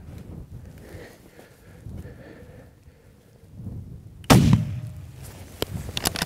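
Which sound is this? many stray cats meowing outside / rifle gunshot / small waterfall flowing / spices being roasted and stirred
rifle gunshot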